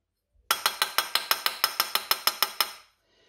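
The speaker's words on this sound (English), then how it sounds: "I'm using this old shot glass." An old shot glass clinks over and over while measuring plaster of Paris: about fifteen quick, bright, even glassy taps in a steady rhythm, close and clear, with no talking.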